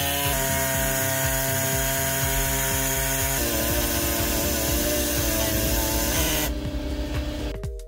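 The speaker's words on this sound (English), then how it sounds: "Now it's time to play with the reciprocating saw." A reciprocating saw cuts through material for a fish measuring board mount, a loud, harsh buzzing with rapid rhythmic strokes that shift in pitch midway and then stop abruptly near the end.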